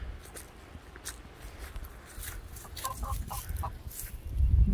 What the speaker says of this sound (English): See their chickens.